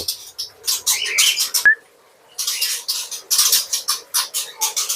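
Many birds in a rearing cage chirp and squawk in dense, overlapping bursts at close range, falling silent for about half a second before the chatter resumes just as busily.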